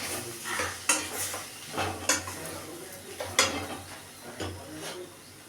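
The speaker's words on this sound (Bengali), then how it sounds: "জিরে আদা লঙ্কা বাটা মশলাটা দিয়ে কষিয়ে নেব একটু" Cumin, ginger and chili paste being sautéed with boiled dal and potatoes in a pan, with repeated scraping stir strokes and a soft sizzle, several sharp spatula scrapes spaced about a second apart, no talking.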